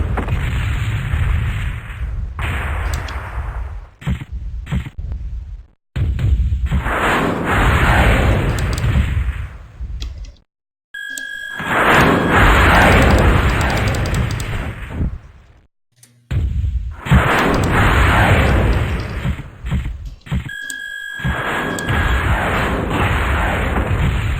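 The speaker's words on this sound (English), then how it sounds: "nothing's to stop us from just throwing missiles at your base" Missiles fired in chain fire in MechWarrior 2 NetMech: loud, long roaring bursts of launch blasts and rumbling explosions that repeat in several waves, separated by brief quiet gaps.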